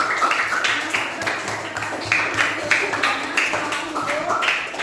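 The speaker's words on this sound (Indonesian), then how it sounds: "Sekarang kita mau kasih tepuk tangan dulu buat teman-teman sekalian." Classroom group clapping in a steady rhythmic pattern, many hands striking together in repeated sharp beats at a fairly loud, even pace.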